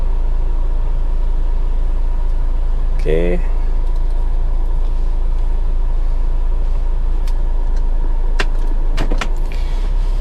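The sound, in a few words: Nissan Grand Livina driving, engine rumble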